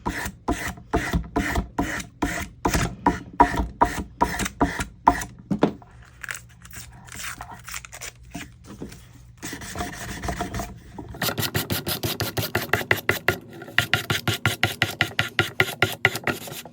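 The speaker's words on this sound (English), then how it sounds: "I'm gonna get off this excess decoupage paper by sanding in a downward motion." Sandpaper rasps by hand against the edge of a small wood block, scraping off excess decoupage paper with steady rapid downward strokes in close, loud bursts, pausing briefly midway before resuming faster.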